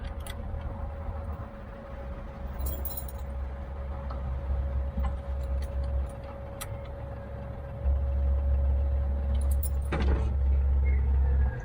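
A Silca Triax key cutting machine cuts a brass key, giving a steady motor hum with a sustained whine and low rumble, plus scattered light ticks and scraping as the cutter works the blank, with a heavier surge near the end.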